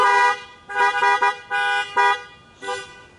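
Car horns honk in several separate bursts at a drive-in church revival service, loud steady tones overlapping from multiple vehicles with short pauses between blasts.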